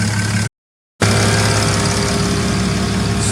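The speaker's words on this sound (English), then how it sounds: "I'm gonna let her idle for a little bit" A Cummins 6.7 diesel truck engine idles close by, loud and steady with a low rumble, broken by a half-second gap of silence before the idle resumes unchanged.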